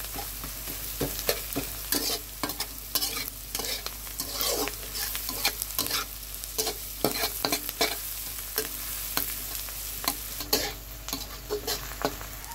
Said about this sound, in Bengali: এইভাবে ভালো করে একটু ভেজে নেব।